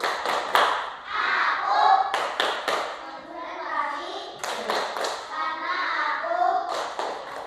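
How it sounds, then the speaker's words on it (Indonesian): A third-grade class performs a rhythmic concentration clap in a classroom, bursts of patterned hand claps alternating with children chanting together in unison, lively and close. "Tepuk konsentrasi."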